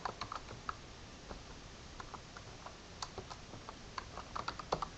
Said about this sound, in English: You'll notice as we type New Paltz, New York